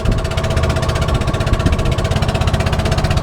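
A loud, steady speedboat engine drone with a rapid rhythmic chugging, close by and continuous, with no voices, on the Musi River in Palembang.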